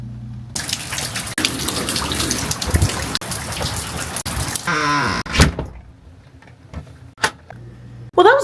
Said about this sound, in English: It is pouring from the heavens.